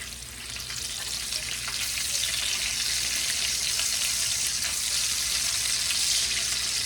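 Store-brand bacon fries in a stainless steel pan set around medium-high heat, giving a loud, steady, dense sizzle that carries unbroken from start to finish with no talking.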